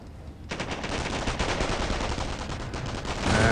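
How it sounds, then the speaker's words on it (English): Rapid machine-gun fire from the mobile video game Company of Heroes, a dense continuous burst starting abruptly after a brief quiet moment and rattling on steadily at moderate loudness. "Machine gun trying to get them out."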